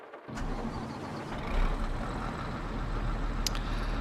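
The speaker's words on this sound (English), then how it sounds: "Right, so you have to turn on the engine again," Engine of a Fendt Katana 850 forage harvester in a farming simulator cranking and catching, then settling into a steady, loud, low diesel rumble that continues to the end with no talk.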